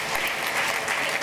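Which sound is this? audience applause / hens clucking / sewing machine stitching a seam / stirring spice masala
audience applause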